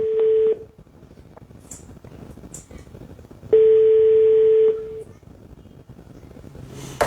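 Touch-tone telephone dialing: a short steady tone burst opens, then a longer sustained tone plays for about a second after a pause, with faint background noise between.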